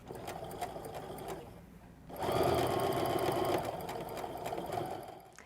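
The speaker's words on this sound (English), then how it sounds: "work my way around sewing everything together." A sewing machine chain-pieces a quilt block, running in a steady close whir, pausing briefly, then sewing again in a longer, louder run.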